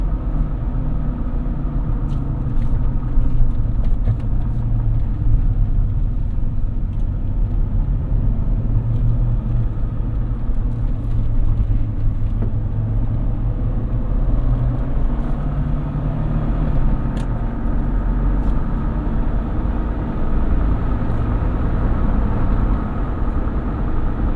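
A 2022 Jeep Wrangler Unlimited Willys engine hums and rumbles steadily at low pitch from inside the cabin while driving through turns, a continuous droning drive with no talking.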